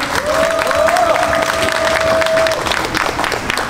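Crowd applause at a construction workers' union rally, steady and sustained across the clip, with a shrill whistle-like tone running through the first few seconds and faint voices mixed in.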